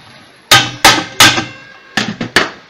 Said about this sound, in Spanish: Con un martillo le doy unos golpes aquí.